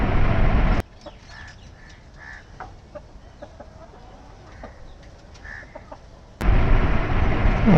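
Hill chickens on a farm in Chittagong, Bangladesh, cluck in scattered, fairly close bursts against a quiet background, framed by loud rushing noise at the start and end.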